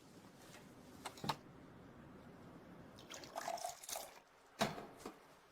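Drinking water is poured in a home, soft trickling and splashing with a few louder bursts of liquid over a quiet background, and no talking.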